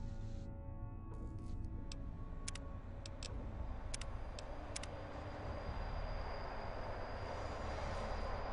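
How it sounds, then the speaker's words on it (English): A monorail train in Fallout New Vegas runs with a steady low rumble, and a series of light rhythmic ticks and clicks sits on top of the continuous rolling drone. "Ah, the monorail."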